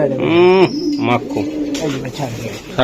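Racing pigeons cooing up close in a loft, a few throaty warbling coos in quick succession, overlapping with people talking nearby.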